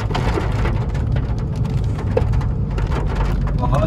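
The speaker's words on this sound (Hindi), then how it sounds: "छत पे आवाज कर रही है बारिश" Heavy, fat raindrops drum on a rooftop in a steady, dense patter, close and continuous, with sharper individual drops ticking out now and then.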